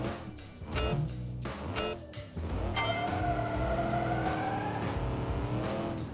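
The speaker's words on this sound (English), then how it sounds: "Wow, very nice acceleration. Very nice acceleration, not much wheel spin" A 1970 rear-engined muscle car with carburetors accelerates hard and loud, the engine note climbing steadily through the gears and roaring continuously near the listener without pause.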